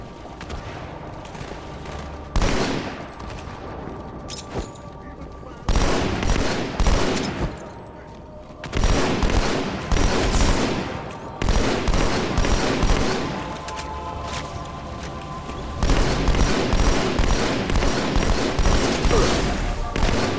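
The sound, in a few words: gunfire from Halo 2 video game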